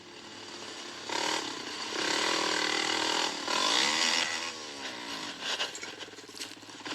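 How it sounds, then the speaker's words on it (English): An ATV engine revs and drones while riding a forest trail, rising and falling in pitch through several throttle surges, loud and close, with no talk. "uploaded a GoPro video of himself riding his ATV on an unnamed trail."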